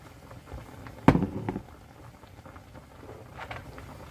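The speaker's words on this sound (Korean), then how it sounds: "끓는데 뚜껑 한번 열어볼게요." A spicy fresh cod stew boils in a pot. It makes a soft, close bubbling patter, broken once by a brief, sharp knock, with no talking.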